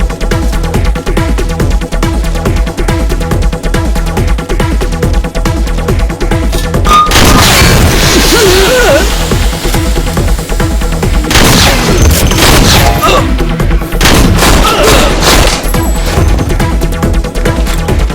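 Gunfire in a South Indian movie action scene, a dense loud barrage of shots and booming impacts layered over a dramatic music score, with a heavier burst in the middle.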